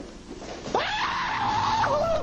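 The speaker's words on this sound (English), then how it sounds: "Rushing footsteps come from within and send him screaming off the job site." A single long, loud scream rises suddenly and wavers for over a second at a job site, following a burst of movement, with steady background noise throughout.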